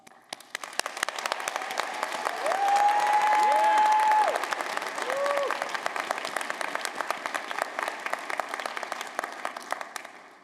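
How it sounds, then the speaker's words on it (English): Commencement audience at a college ceremony applauding steadily for about ten seconds, a dense wash of clapping that swells in the middle and tapers off, with brief voices and cheers mixed in. "You also deserve our recognition and applause."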